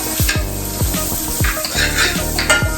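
Butter heating in a pan for vanilla pancakes gives a loud, close sizzle, with repeated utensil scrapes and taps against the pan and a low rhythmic rumble underneath.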